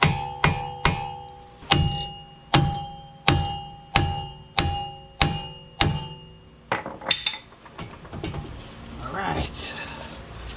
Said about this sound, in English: Let's start by trying a sacrificial hammer.